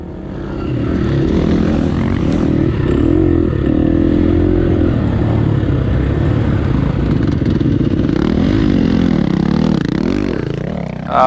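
A dirt bike racing in a hare scramble, its engine buzzing loudly and continuously with pitch rising and falling through throttle changes, close, no talk.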